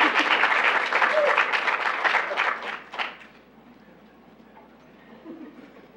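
Audience applause at a scientific technology showcase as a speaker is welcomed, a dense, steady clapping that rolls for about three seconds and then drops away to quiet room tone.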